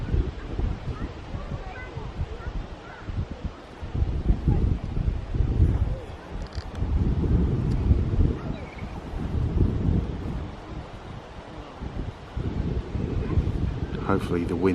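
Wind buffeting the microphone outdoors at ZSL Whipsnade Zoo in summer, a steady low rumbling roar that swells and eases across the clip, partly under a man's speech.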